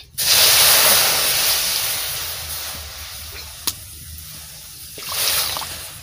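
Water poured into a pot for making kuli pithe, a loud rushing hiss at the start that gradually fades, one sharp clink, then a second swell of pouring near the end.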